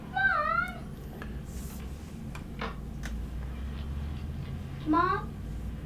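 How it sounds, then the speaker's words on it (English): A cat lets out two drawn-out, wavering meows, one at the start and one near the end, with faint clicks and a low background murmur in between. "It was the cat."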